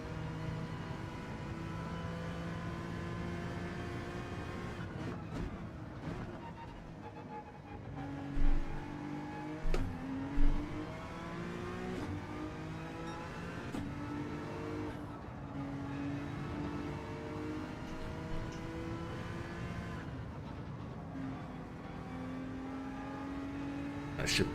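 Race car engine in Gran Turismo 7 during a league race, revving and accelerating through rising gear sweeps with shifts, steady and prominent throughout; occasional voice comments sit under the engine.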